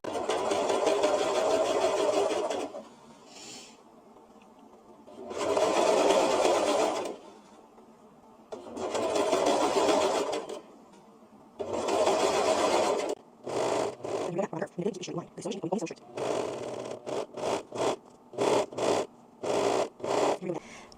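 Serger sewing a cloth pad: bursts of fast whirring stitching lasting a couple of seconds each, then a run of short stop-start pulses, loud and close.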